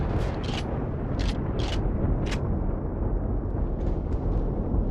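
An artillery cannon mounted atop a hover vessel fires in the Empyrion Galactic Survival game, several sharp booming blasts in quick succession over a dense, constant roar of engine and battle noise.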